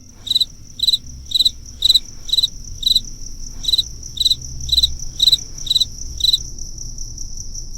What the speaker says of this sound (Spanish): un concierto de grillos y chicharras amenizaba ese momento familiar